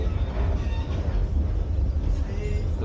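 The Alaska Wilderness Express train rumbles at the Anchorage depot, a loud, continuous low roar of rolling rail cars that stays steady throughout, with no clear voices.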